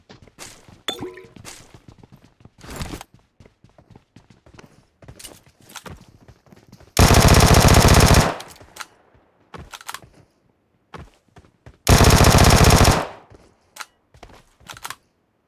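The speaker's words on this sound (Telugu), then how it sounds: "ఈ మ్యాచ్ నేను షార్ట్ గన్ వాడుతున్నా." Gunfire in the battle royale game PUBG Mobile: scattered single shotgun blasts and clicks, then two long, loud sustained machine gun bursts, close and harsh, with no speech.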